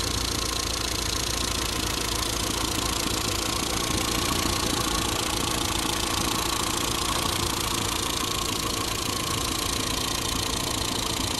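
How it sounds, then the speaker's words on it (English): A warm Rover Mini Cooper 1.3i engine idles steadily and evenly, a smooth continuous rumble close by with no talking. "there's the motor idling nicely when it's warm"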